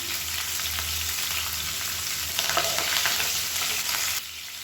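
Curry leaves and chopped green chillies sizzle loudly in hot oil, a steady crackling hiss with a brief surge of spitting near the middle that drops away abruptly at the end; no one speaks.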